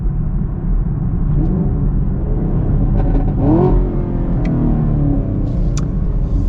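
A 2022 Chevy Camaro 2SS engine rumbles steadily, then revs briefly and drops through the gears with a rising and falling growl, loud and close throughout.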